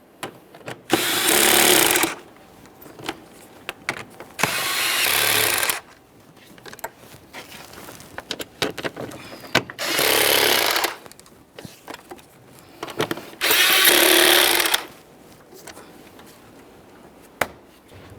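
Power tool running in four separate bursts of about a second each as it snugs up mounting bolts on a 2007-2013 Acura MDX 3.7L V6, with faint clinks and handling noise between bursts and no talk.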